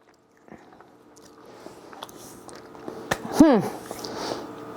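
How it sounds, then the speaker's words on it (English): Crunchy PSMF protein cookie bitten and chewed close by, a sharp crunch followed by soft chewing amid quiet room sounds, with a brief voiced sound mid-bite. "Yep, they definitely have that crunch."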